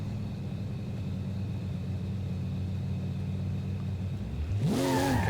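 Car engine in the Forza Horizon 5 racing game, a steady low droning rumble that swells into a sharp rising rev near the end as the car accelerates toward a tight gap.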